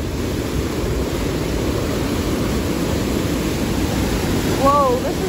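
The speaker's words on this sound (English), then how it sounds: "That water is going so fast." Okere Falls near Rotorua, a waterfall of fast-rushing water, roars as a loud, continuous broadband wash filling the scene, with a brief faint wavering tone near the end.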